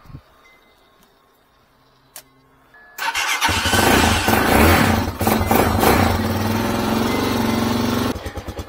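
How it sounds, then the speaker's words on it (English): After a few faint clicks, a Honda Hawk 250 dirt bike engine running on treated fuel starts abruptly and settles into a loud, steady, close-up idle with a slight blip near the end. "I'm just gonna let it run for a little bit, work some of that treated fuel through the carburetor"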